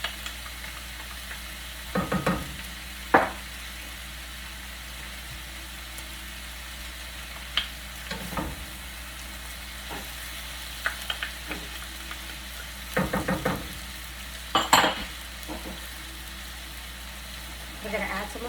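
A lobster and shrimp stir-fry sizzles quietly in a pan, with scattered sharp bursts of clatter and hiss as wet ingredients go in and get stirred, some faint talk in the background.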